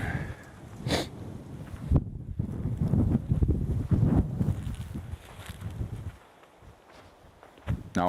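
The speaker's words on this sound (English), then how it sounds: "The wind's just picked up again a little bit, and that wind is certainly quite chilly" Chilly wind gusts buffet the microphone on an outdoor safari drive, a rumbling low roar that swells and fades across several seconds, with a few scuffs and knocks in between before easing near the end.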